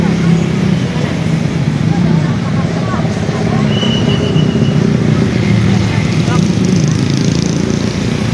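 Congested road traffic on the way to Kalipucang market, next to the Kalipucang bus terminal. Engines rumble steadily and close by, with no break, and faint voices mix into the constant noise.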